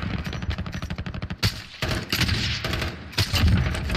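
Rapid automatic gunfire in the video game Call of Duty Warzone, dense rattling bursts of shots up close, breaking into several heavier volleys, loud and continuous with no talk over it.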